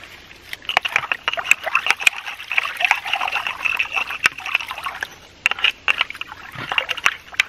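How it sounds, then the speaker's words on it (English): Sand at a low-flow ram pump intake is stirred up by hand in shallow water, giving close, irregular sloshing and trickling splashes with short pauses, and no talk. "Now I'm gonna stir up a bunch of this sand up here and see how much gets into the bucket down there."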